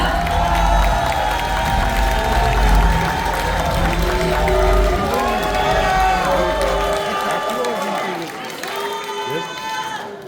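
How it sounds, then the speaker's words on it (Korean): An audience at a political party leadership rally in a convention hall applauds and cheers to welcome a candidate, a dense, loud, sustained wash of clapping and crowd noise that tapers off near the end. "뜨거운 박수로 환영해 주시기 바랍니다"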